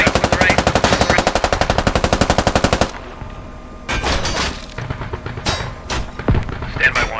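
Rapid machine gun fire in the Squad military shooter, a loud steady burst of evenly spaced shots that stops abruptly, followed by scattered battle noise with voices talking over it.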